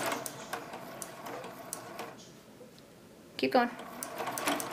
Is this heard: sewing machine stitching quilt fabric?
yes